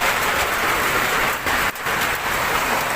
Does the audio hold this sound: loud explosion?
no